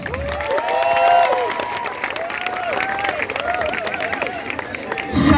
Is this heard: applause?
yes